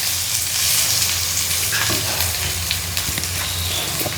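Mushrooms sizzle steadily in a hot pan for a Kerala-style mushroom roast, with scraping stirs of a spoon breaking through the close, continuous crackle.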